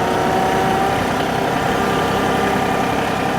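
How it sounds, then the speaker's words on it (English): Tractor engine pulling a box blade under heavy load, a steady loud low drone with dense rumble that holds strained and continuous throughout, no voices. "And you hear the tractor bogging down."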